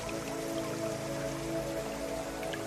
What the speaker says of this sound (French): En marchant, tu entends le murmure de l'eau